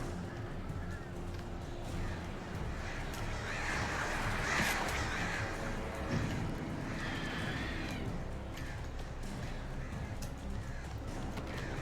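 A swarm of crows in the video game Alan Wake caws and flutters in a dense, harsh, overlapping mass, loud and close, with scattered clattering sounds throughout.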